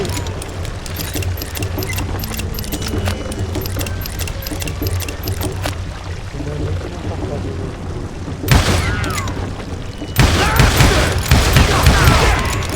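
Gunfire in the Western shooter Call of Juarez, with rapid rattling shots and booms over game noise, growing into a dense loud burst of firing toward the end, with a voice shouting over it.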